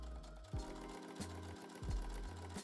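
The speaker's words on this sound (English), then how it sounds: "Then top stitch that edge in place." A sewing machine top stitches a rolled fabric edge on a corset-style bodice piece, running in short rattling bursts with brief pauses between them, close and fairly quiet with no talk.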